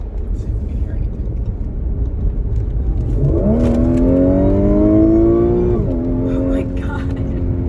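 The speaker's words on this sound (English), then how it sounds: "That's a supercharger. That's what it's supposed to sound like." A supercharged Audi engine accelerates hard with a rising whine that climbs in pitch for a few seconds over road and engine rumble, then drops and climbs again; people talk and react over it.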